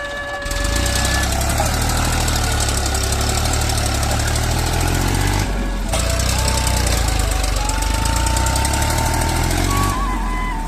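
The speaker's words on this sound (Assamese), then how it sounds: "ইয়াত ট্ৰেক্টৰ দি মাটি খনাই লৈছোঁ" A loud, steady tractor engine rumble with rhythmic knocking and pounding as it digs soil in a dry riverbed, close by and continuous, with a brief pause near the middle.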